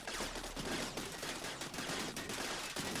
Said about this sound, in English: The gunfire adds up and just tears you up.